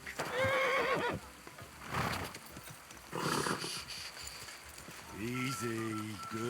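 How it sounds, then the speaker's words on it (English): A horse in the video game Kingdom Come: Deliverance II whinnies with a high, wavering neigh, followed by snorts and hoof noises, then another lower neigh near the end, with someone talking over it. "Easy, good horse."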